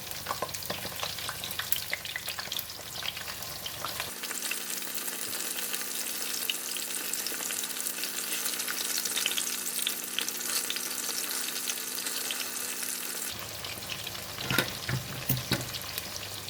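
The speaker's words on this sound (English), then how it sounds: "We will fry the tofu until it's golden brown" Tofu frying in a pan until golden, a steady close sizzle with crackling spatters throughout, briefly louder and brighter at the start and near the end, with no voices.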